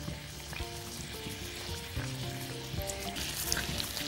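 A beef roast sears and browns in a pan of hot oil, a dense close crackling sizzle with small pops continuing throughout, no talking.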